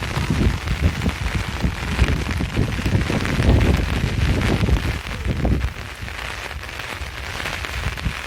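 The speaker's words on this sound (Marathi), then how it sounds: "तर आता पाऊस आला" Heavy rain pours steadily onto surfaces outdoors, a dense, loud wash of drops with some rustle, easing slightly toward the end.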